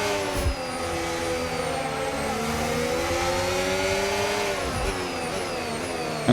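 Formula 1 race cars in the F1 25 video game scream close by at high revs, the engine pitch sweeping up and down as they shift gears at the Australian circuit, a loud sustained whine.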